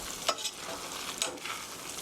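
Spaghetti is tossed and stirred with tomato sauce in a hot pan, giving a soft, continuous sizzle broken by a couple of brief scraping stirs nearby. No voices are heard.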